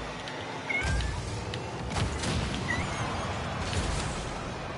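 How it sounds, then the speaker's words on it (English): A pet cat meows a couple of times, short upward-bending calls at moderate distance, with soft thumps and room noise between them and no talking. "Hi, kitty cat."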